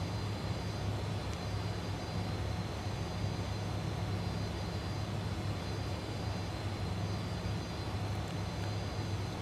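A steady, continuous engine drone from an F28 jet airliner taxiing in Microsoft Flight Simulator 2020, heard as an even cabin hum with a low rumble and faint whine.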